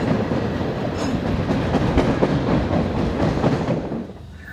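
A 65-car freight train in Minnesota rumbles past close by, a heavy steady roar with rhythmic clacking of wheels over rail joints, fading somewhat at the end.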